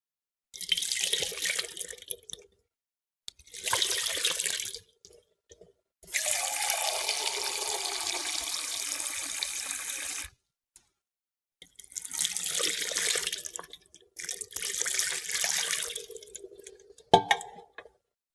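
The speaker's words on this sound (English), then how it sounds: "Your hand is totally exposed to the water. And you pour it twice." Water pours and splashes in several separate bursts, with short pauses between, close by and fairly steady.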